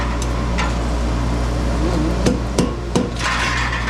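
A power hammer strikes hot steel being forged into a branching scroll, a few sharp metallic blows landing irregularly over a steady loud machine drone.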